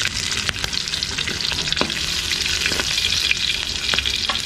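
Garlic sautéing in hot oil in a pan for Filipino ginisang monggo with ampalaya, a steady close sizzle with occasional stirring clicks, with no talk.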